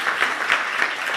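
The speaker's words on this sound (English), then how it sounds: "let's thank all of the speakers with a round of applause" Audience applause at the close of a statistics workshop, steady dense clapping from a crowd filling the short moment without speech.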